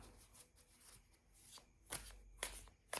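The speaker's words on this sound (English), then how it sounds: "Let me pull some cards out of this deck." A deck of cards is handled and shuffled up close, with soft rustling punctuated by a few crisp riffling bursts toward the end. No one speaks.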